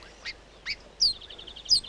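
A mistletoe bird, Australia's only flowerpecker, gives a few sharp high call notes and then a quick twittering trill, clear against quiet background noise.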